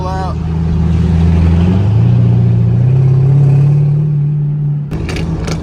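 A loud catless Chevrolet Camaro SS engine revs and holds a deep, rising roar for several seconds, then cuts off abruptly as voices come in.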